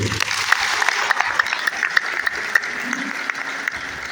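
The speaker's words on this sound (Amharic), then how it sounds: "ለእግዚአብሔር ክብር አጨብጭቡ።" A church congregation claps together in steady, sustained applause, dense and fairly loud throughout.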